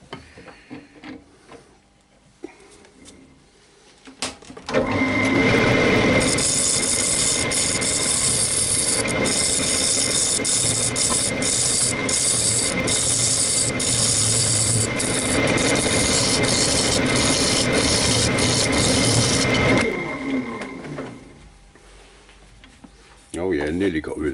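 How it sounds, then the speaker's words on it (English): A sharp scraper takes wood off a yew bowl spinning on a lathe, giving a loud, continuous rough grinding rasp for about fifteen seconds before it fades back to the quieter whir of the machine. "A good sharp scraper will take a lot of wood off."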